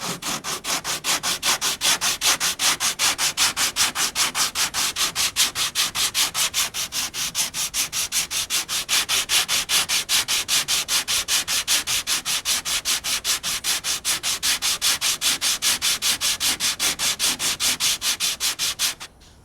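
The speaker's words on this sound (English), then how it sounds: "Well, it definitely does sand awesome." Steady, continuous sanding over a boat hull coated with Evercoat fiber reinforced jelly during an osmosis blister repair, a loud even rasping with a fast regular stroke rhythm that runs without pause, no voices.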